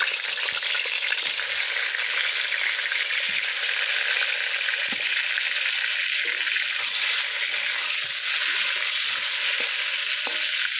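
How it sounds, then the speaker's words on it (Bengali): Pointed gourd (potol) fries in hot mustard oil with a loud, constant sizzle and crackle. A few soft stirring knocks come through the sizzle. "পটলগুলোকে আমি খুব ভালো করে লাল লাল করে ভেজে নেব।"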